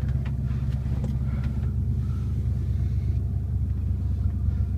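A 1996 Ford Bronco Eddie Bauer with a 5.8L V8 and a cut exhaust idles nearby, a deep, steady, loud rumble with a throaty low burble and no revving or talk.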